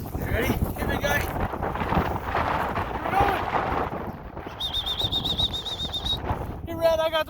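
A live bird's wings flap outdoors during retriever puppy training, a brief fluttering burst amid wind noise, with a sharp whistle tone near the end and a person talking nearby.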